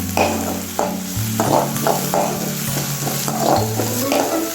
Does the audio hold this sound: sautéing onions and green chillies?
yes